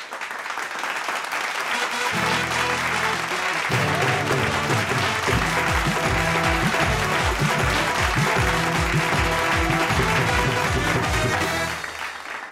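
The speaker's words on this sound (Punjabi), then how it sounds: "ਜ਼ੋਰਦਾਰ ਤਾੜੀਆਂ ਜੀ ਉਹਨਾਂ ਲਈ" Enthusiastic audience applause for ten semi-finalists at a Punjabi wedding-song singing competition stage show, sustained loud clapping with music playing underneath, rising in and holding steady before fading at the end.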